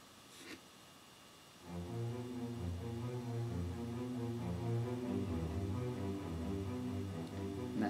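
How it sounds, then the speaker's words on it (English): A low cello motif backed by spiccato strings, part of an orchestral theme for the character Wily; faint, short-bowed bass notes pulse in a steady figure after a brief quiet opening, with no speech. "It's on the strings, got its spiccato strings in a minute, and it's on the cello."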